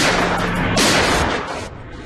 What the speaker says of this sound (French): Chappell sort son arme et tire 2 coups de feu